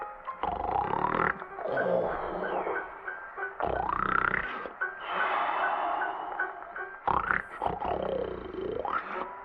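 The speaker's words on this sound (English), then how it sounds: "Bear snored and snored for many days." A bear snoring in a Red Dead Redemption 2 theater film, a series of long, drawn-out rumbling snores that rise and fall in pitch, each breath separated by short pauses.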